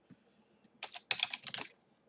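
Keys clack on a computer keyboard during a Japanese-language game, a short burst of quick, close taps clustered together after a near-silent start, with no talking.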